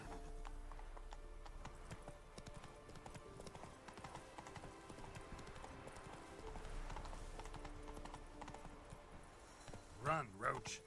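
Roach the horse gallops in The Witcher 3: Wild Hunt, with a steady run of clip-clopping hooves and a whinny near the end, while a voice speaks over it.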